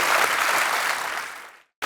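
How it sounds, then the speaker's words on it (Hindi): A television comedy talk-show studio audience applauds loudly and steadily, then the clapping tapers off to silence before a brief resumption at the end. "जोरदार तालियां एक बार रेखा जी के लिए और विशाल जी के लिए"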